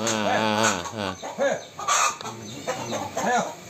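Chickens clucking and cackling nearby in an agitated back-and-forth, with a rooster-like drawn-out call at the start.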